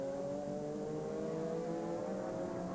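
Race cars, including a Porsche and a Viper, at an FIA GT Championship round at Jarama, engines droning steadily at high revs in a continuous tonal whine from a distance, without a clear pass-by.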